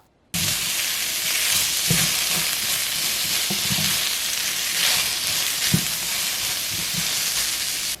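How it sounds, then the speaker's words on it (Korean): King oyster mushroom strips stir-fried in a pan with salt and olive oil, a loud constant sizzling hiss starting abruptly, with scattered scrapes and taps of a spatula and no voices. "소금과 올리브 오일 넣어 섞으면서 살짝 볶아주세요."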